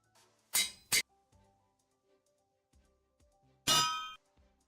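Two sharp metallic anvil clangs ring out close together, then a third, longer ringing strike follows after a quiet stretch; no voices.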